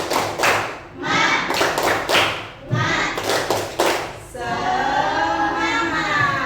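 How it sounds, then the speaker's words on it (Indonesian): A classroom of students performs a rhythmic spirit clap, sharp patterned bursts of hand claps with pauses between groups, followed by the class chanting together. "Coba tepuk semangat."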